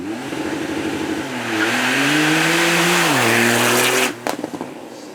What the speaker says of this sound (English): Hard on the brakes